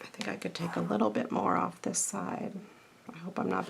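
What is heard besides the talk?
None of the usual background noises is heard.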